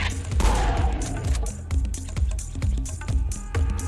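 Rapid bursts of gunfire from a custom weapon in the Serious Sam TSE Revisioned mod video game, loud and dense shots fired in quick succession with heavy low-end punch and no pauses.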